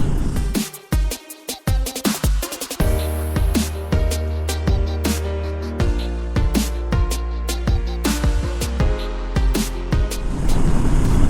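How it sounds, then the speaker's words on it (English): A Dominar 400 motorcycle rides through a road tunnel, its engine hum and the roar of passing vehicles echoing loudly off the walls, with repeated whooshing surges as traffic goes by. "This is the first time I am riding through a tunnel."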